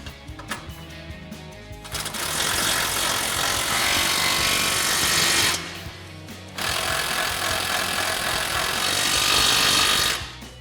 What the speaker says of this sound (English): Now we'll go ahead and tighten these two down with a 19 mil socket on our impact and an 18 mil wrench.